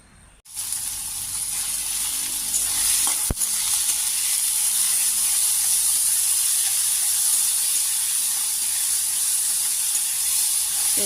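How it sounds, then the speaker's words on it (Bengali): Onions frying in hot oil in a home kitchen, with prawns and ridge gourd close by. After a short quiet start the sizzle rises into a loud, steady hiss and holds, with a single sharp click partway through. "তেলে পেঁয়াজ সাথে সাথে লাল হয়ে যায়"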